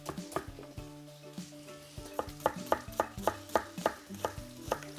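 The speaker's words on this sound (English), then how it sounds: "And we'll go ahead, slice, slice." Knife slicing onions on a cutting board, a run of crisp, evenly spaced chops close by, with garlic to follow.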